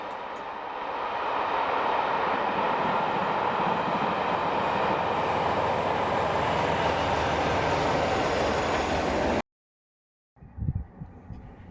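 A railway touring train hauled by Black 5 steam locomotive 45212 rolls past with a sustained broad rumble and wheel noise that builds and holds, then cuts off abruptly before a brief faint sound.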